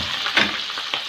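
A quarter kilo of minced meat sizzles in a small pan and is stirred until it breaks apart. The frying hiss is steady, and a few soft scrapes and bumps come through, close up and brief, with no voices.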